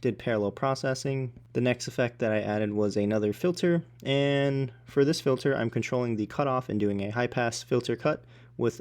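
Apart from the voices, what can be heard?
No distinct noise like a dog, phone or traffic.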